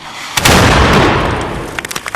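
A cannon fires a shot, making one loud, close, broadband boom that rumbles and decays over about a second and a half, followed by a few smaller crackling pops.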